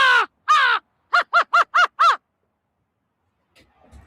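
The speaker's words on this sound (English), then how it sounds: "American crow." An American crow caws in a clear series: two harsh calls, a pause, then five quick caws in a row, close and loud against silence, with faint rustling at the end.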